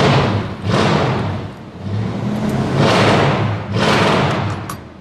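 A small car with glass pack exhaust revving loudly in three or four swelling bursts, a deep throaty rumble rising and falling close by, with no talk.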